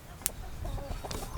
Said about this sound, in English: There's Sue, the rooster.